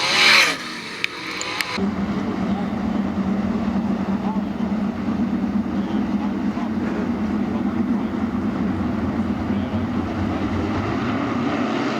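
Sprint cars roar together on a dirt track during the fourth heat race of an All Star Sprints event at Attica Raceway Park, a loud, steady engine drone after a brief burst of crowd and announcer noise at the start.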